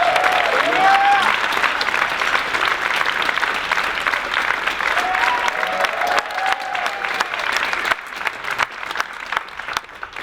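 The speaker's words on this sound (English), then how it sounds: "How about another round of applause for our awesome trumpet soloist?" Audience at a school winter band concert applauds a trumpet soloist, a dense, loud wave of clapping sustained for several seconds with faint voices mixed in, gradually thinning toward the end.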